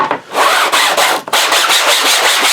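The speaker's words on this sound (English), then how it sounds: "I've got some self-adhesive sandpaper on a flat board." A 3D print is rubbed back and forth on self-adhesive sandpaper stuck to a flat board, giving loud, close, gritty abrasive strokes in quick repeated passes with brief pauses between them.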